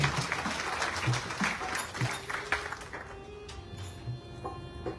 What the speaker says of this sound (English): Please give yourselves a nice round of applause as well.